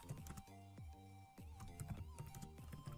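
Typing on a computer keyboard, a close, quiet series of rapid key clicks with brief pauses, with no talking.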